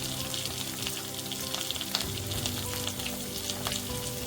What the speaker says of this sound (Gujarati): તેને સારી રીતે મિક્સ કરી અને આ શાકભાજીને પણ થોડી વાર આપણે સાતળવા દઈશું